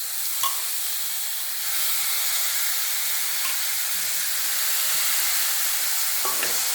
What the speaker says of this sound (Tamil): அதையோட இதோட கொஞ்சம் நல்லா வதக்கிடுவோம் கேரட் வதங்கிடுச்சு